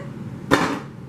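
A single sharp hammer strike on a painting surface braced on one side, used to spread acrylic paint in a swipe technique; one loud, close impact with a short ringing decay amid quiet room tone.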